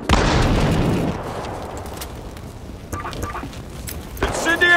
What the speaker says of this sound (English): Tossing incendiary, watch it!